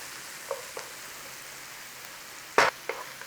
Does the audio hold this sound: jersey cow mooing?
no